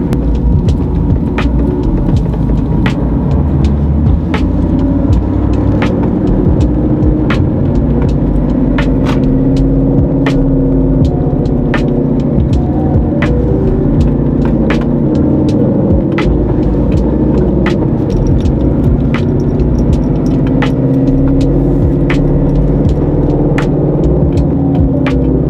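A car with a stock GT bumper drives on a gloomy, overcast day: a steady, close engine and road rumble inside the cabin with a faint, regular ticking repeating about once a second.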